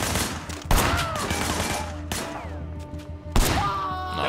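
Sleeping Dogs video game gunfire in a street fight, with shots fired from a car's passenger window at men nearby: three sharp, loud gunshots at roughly even intervals over a steady rumble of engine and background game sound.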